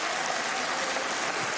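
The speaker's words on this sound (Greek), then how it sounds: "Κάποιοι από εσάς χειροκροτάνε κιόλας." Applause in the Greek parliament, a steady, dense wash of clapping from many members, heard briefly with no talking over it.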